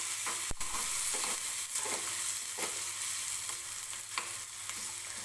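Chopped onion sautéing in oil in a pan for bun dosa batter, a steady soft sizzle with a few scraping stirs of a spatula, close up and with no talking.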